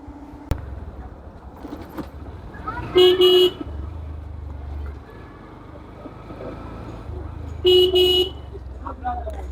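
A motorbike horn honks twice in short, loud bursts at pedestrians walking in a narrow street, separated by several seconds, over low engine rumble and traffic background.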